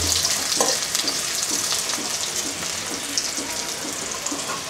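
Chopped onions, green chillies and garlic frying crisp in hot oil in a village kitchen, a loud continuous sizzle with occasional stirring scrapes throughout.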